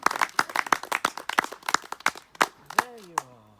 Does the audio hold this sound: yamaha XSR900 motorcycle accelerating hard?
no